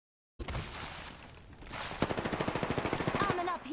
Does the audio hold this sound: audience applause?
no